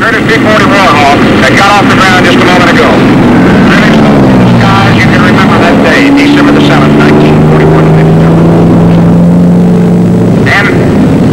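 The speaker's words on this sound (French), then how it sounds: "Le zéro est touché, il simule un atterrissage de fortune." Zero fighter aircraft engine droning loudly at an airshow while it simulates an emergency landing, heard through wind noise with rising and falling tones and someone talking over it.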